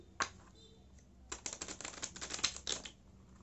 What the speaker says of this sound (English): shuffle the card